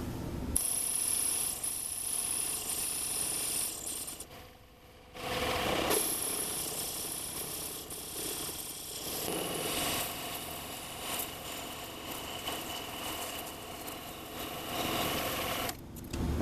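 An aluminum CNC vacuum pod is parted off on a lathe, giving a continuous harsh machining noise, close and steady, with a short dip midway before cutting resumes.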